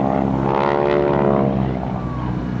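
A propeller aircraft in a GEICO Skytypers airshow display at a 2008 joint services open house gives a loud, steady engine growl, with its propeller tips going supersonic at about 2,500 rpm as it passes close by.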